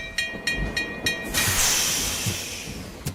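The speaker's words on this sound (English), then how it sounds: "All aboard the choo-choo train." Train sound effect: a few short whistle-like tonal toots followed by a loud, sustained steam hiss with low chugging thumps underneath, played alone without talk.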